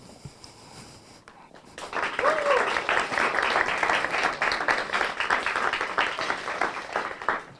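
Applause breaks out for a team at a film festival, starting after a quiet moment and building into sustained, dense clapping from a sizeable audience that continues to the end.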